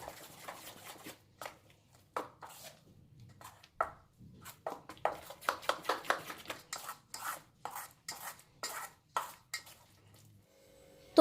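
Spiced batter with hing and red chili powder being mixed by hand in a bowl, producing a series of soft slapping and scraping strokes that quicken into a steady rhythm, close and quiet.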